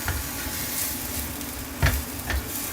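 Mushrooms and clams sauteing in a pot sizzle steadily and close by, with a couple of brief louder clatters partway through, no talking.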